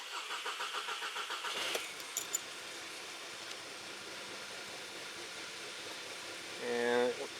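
A Volkswagen 2.0 TSI (CBFA) engine with bad timing cranks with a steady pulsing rhythm for under two seconds, then catches and settles into a rough, uneven idle, with a brief rev swell near the end.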